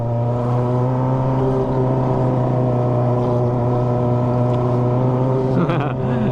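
Kawasaki ZX25R motorcycle fitted with a Toce exhaust idles loudly and steadily near the listener, with a rough, buzzing engine note and a brief blip of revving near the end, while people talk over it.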